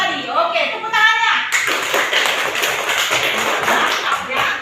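Children clapping together in a classroom, a dense burst of hand claps under a short opening of speech, steady and close throughout.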